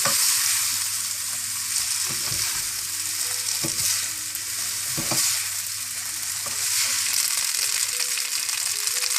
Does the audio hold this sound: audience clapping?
no